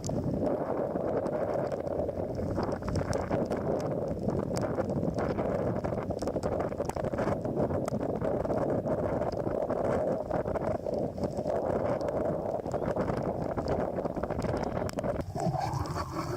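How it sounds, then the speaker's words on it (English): Wind blows steadily across a sailboat under way, a constant loud rushing roar with microphone buffeting throughout the whole stretch and no talk. "few little wind blows coming behind us"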